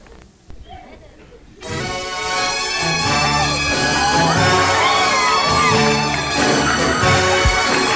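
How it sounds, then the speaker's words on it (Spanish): An audience at a comedy stage show breaks into cheering, whoops and applause after a quiet start with a few sounds, then a bright, loud band plays on top of the crowd noise. "Aplauso para Rafael."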